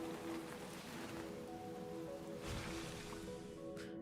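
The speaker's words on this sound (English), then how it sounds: "Why is it raining? Oh, you're causing the rain." Rain falls steadily in the video game Honkai: Star Rail, a soft continuous patter with a faint tonal game hum beneath it and a brief swell near the middle.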